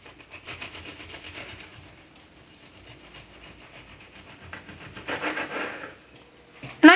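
Bread knife sawing through a gluten-free apricot almond quick bread, soft rhythmic rasping strokes close by that grow stronger toward the end, ending in a sharp scrape.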